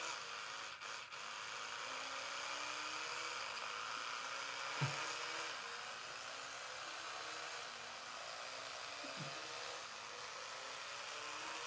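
An electric toothbrush runs in a steady, even buzz, close and alone, with a couple of faint knocks partway through.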